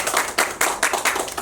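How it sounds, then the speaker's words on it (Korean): Applause from a lecture audience welcoming a former city council secretariat director as guest speaker at a citizens' college session, a brief burst of fairly steady clapping from a modest crowd, moderately close. "큰 박수 부탁드립니다."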